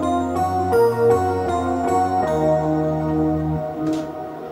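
Layered synth organ, electric piano, bells and a Zebra patch sound together in a slow outro melody, with sustained chords under bright bell-like tones that thin toward the end.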